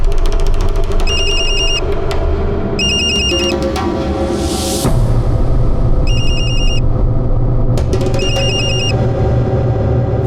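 A telephone bell rings in short repeated bursts over a steady background hum, loud and near, with a brief rushing noise between rings.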